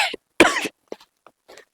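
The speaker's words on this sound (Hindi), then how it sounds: "खांसी तो इस बीमारी में आ गई है" Coughing from an ill person: a short cluster of harsh, close coughs, one strong burst followed by a few weaker ones.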